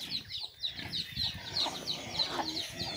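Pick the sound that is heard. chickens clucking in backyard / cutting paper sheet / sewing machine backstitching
chickens clucking in backyard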